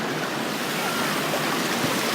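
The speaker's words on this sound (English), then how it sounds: "Wait till the waves come." Broadband ocean surf washes steadily around people standing in the water at the beach, a continuous churning roar with wind buffeting the microphone and no clear break between waves.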